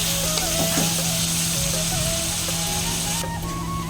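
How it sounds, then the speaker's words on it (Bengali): A steady, close sizzling hiss of carrots frying in a pan, continuous throughout with faint tonal hum in the background. "গাজরটা ভাজা হয়ে যাক"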